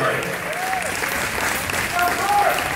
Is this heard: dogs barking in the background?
no